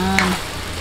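Annatto sautés in hot oil for pansit puso ng Cavite, producing a brief, steady frying sizzle at close range.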